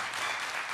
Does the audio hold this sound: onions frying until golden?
no